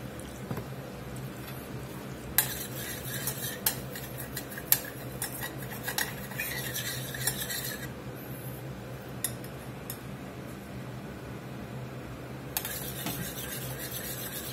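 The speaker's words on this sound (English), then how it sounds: "We're going to get this honey in here, and you can start to smell that butter when it starts browning." Honey is stirred into butter browning in a pot, a spoon scraping and clinking against the metal in scattered strokes with soft bubbling underneath, close and fairly quiet.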